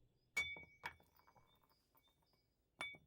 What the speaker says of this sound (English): I do love the glass rolling